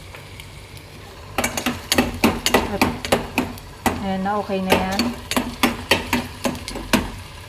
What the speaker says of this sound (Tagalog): halu-haluin hanggang sa mag little brown siya